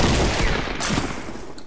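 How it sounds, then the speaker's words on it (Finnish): Shotgun fired in a video game, dense loud blasts running together almost without pause, with a sharp shot near the middle and no voices over it. "Kun mä ammuin tällä haulikolla tähän."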